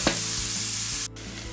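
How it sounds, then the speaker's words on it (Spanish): Onion sautés in a pan over high heat with a bright, dense sizzle and a brief stirring touch at the start. A low steady hum sits beneath, and the sound cuts down sharply just past the one-second mark. "Ya tenemos la cebolla rehogada, la vamos a dejar que se dore un poquito más, el fuego está fuerte"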